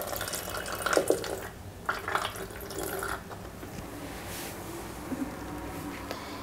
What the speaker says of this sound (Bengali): লিকুইডটা ঢেলে নিচ্ছি।